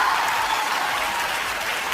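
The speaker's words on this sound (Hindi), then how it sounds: "तालियां थोड़ी कम थी," Dense, loud applause from a Hindi comedy poetry gathering, a steady wash of many hands clapping at once, close and continuous throughout with no gaps.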